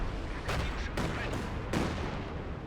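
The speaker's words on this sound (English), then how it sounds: "And look at the barrage." An artillery barrage in the video game Company of Heroes 2, with several heavy booming impacts over a dense, constant battle rumble.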